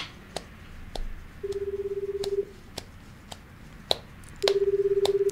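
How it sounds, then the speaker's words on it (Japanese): Telephone dialing in a radio studio: scattered short key beeps, two sustained tone bursts, and a ringback signal, heard clearly with no talking. "早速電話つないでみたいと思います。"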